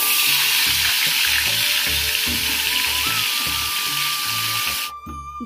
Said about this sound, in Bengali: আর এই 2 পিস ভেজেছি সুকান্তর জন্য